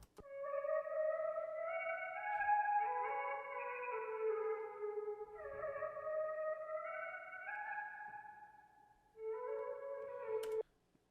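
Vocal sample processed in FL Studio with a degraded sample rate and pitch raised 12 semitones, producing a thin, stretched, gliding tonal line that shifts pitch in several phrases and cuts off abruptly at the end.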